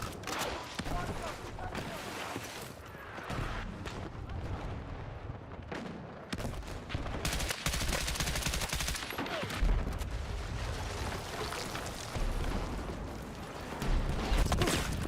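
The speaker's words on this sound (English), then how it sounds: "my teammates are firing unsuppressed in here like absolute buffoons, they're cooking our location" Unsuppressed gunfire in Battlefield 6, dense and continuous, with rapid bursts of shots and heavy booming impacts throughout a chaotic firefight.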